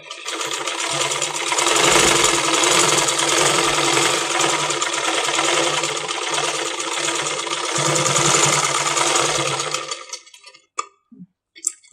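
An electric sewing machine stitches ladies' pants with a steady, fast mechanical whir that runs unbroken for about ten seconds, then stops, leaving a few light clicks and handling noises.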